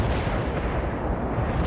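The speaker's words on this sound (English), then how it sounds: "call in artillery and airstrikes on them" Artillery fire in the World in Conflict Soviet Assault campaign, a dense, continuous rumble of booming blasts at steady loudness with no clear gaps between impacts.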